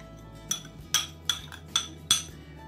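Fried vegetables being mixed with mayonnaise in a bowl, a spoon striking the dish in five clear clinks at an even pace, close and alone.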